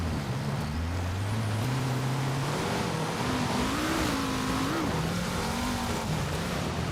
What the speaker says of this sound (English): it makes this weird plastic rattling sound because that's actually like a Lego engine inside the car